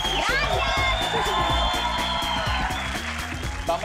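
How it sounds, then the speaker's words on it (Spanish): Applause for a girl and her godfather on a Spanish-language children's comedy show, dense and steady throughout with cheering and excited children's voices mixed in over a lively studio crowd. "un aplauso para María Clara y para su padrino César"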